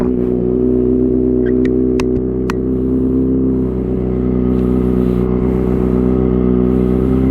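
A 2020 Kawasaki ZX636 sport motorcycle idles after a cold start, its engine holding a steady, loud low rumble with a few faint clicks and ticks over the top.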